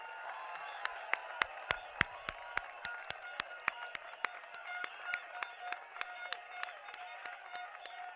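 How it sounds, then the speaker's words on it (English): A crowd at a Workers' Party outdoor election rally in Ubi, Singapore, claps in a faint, distant, fairly regular rhythm of sharp hand claps over a soft background murmur. "let's have a loud round of applause for Team WP"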